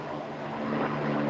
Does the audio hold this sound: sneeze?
no